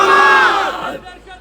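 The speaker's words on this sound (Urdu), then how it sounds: "یہ زندہ باد کے نعرے شخصی نعرے چھوڑ دیں" A large crowd at a religious-political gathering in Jhang shouts a slogan in unison, one loud sustained collective cry that fades out after about a second, close and dominant.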